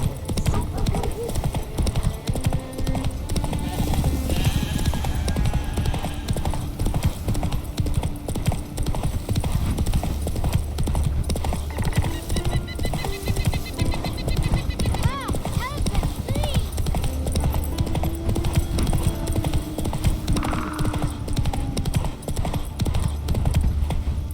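Horse hooves clip-clop steadily on a road in The Witcher 3, an even trotting rhythm running throughout, with a horse's whinny and in-game voices talking over it.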